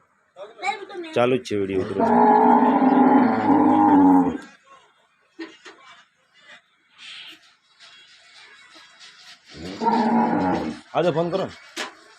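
Cows on a dairy farm in Tharad taluka, Gujarat, give two long, loud moos several seconds apart, with shorter calls and faint background sounds between them.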